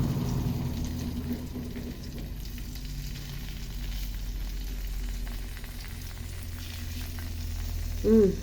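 Marinated salmon belly fries in a pan with a steady, even sizzle that holds for several seconds, joined by a brief louder clatter near the end.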